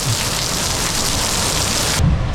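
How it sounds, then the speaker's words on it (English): Rain starts falling in a steady, loud hiss that fills the scene without pause, with a low rumble that swells near the end as the downpour continues. "Just like that, the rain pops up."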